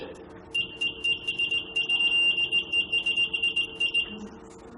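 A buzzer on a steampunk prop, switched by a telegraph key, sounds in a quick series of short and longer high-pitched buzzes over a faint background hum; no talking.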